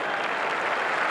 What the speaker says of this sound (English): You can hear their applause in the background